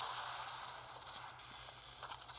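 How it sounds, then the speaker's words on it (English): Steady broadband patter of rain, with a continuous hiss and scattered soft ticks, fairly close and constant throughout, no voices. "Because it's raining."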